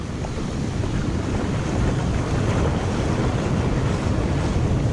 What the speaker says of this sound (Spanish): Se dejan venir 10 olas muy grandes.